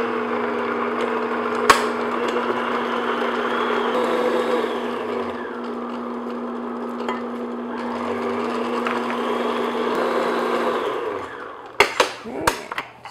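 An electric hand mixer beats eggs one at a time into coffee walnut cake batter, whirring steadily and close, its pitch dipping between passes, with a few sharp clacks against the bowl at the end.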